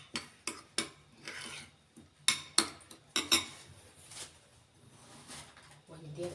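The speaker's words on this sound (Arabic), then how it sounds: "هقلبهم بقى مع بعض كده." Seasoned pizza ingredients with salt and black pepper being stirred in a bowl with a metal spoon, a series of sharp clinks and scrapes against the bowl, irregular and close, with a voice speaking in between.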